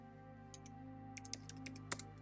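Scattered keystrokes on a computer keyboard, about a dozen soft clicks in irregular bursts, faint and close over a quiet electrical hum.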